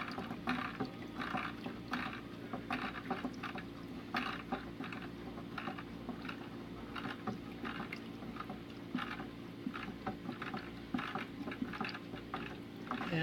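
Pure honey is poured into a container and stirred for a mead batch, giving quiet, wet, sticky liquid sounds with soft repeated stirring clicks and squishes, low in level and without talk.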